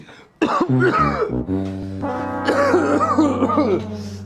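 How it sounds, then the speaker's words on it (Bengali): A person coughs close to the mic, a sharp burst followed by several harsh, strongly voiced, drawn-out coughs, loud and alone. "স্যার আমার না খুব কাশি হচ্ছে।"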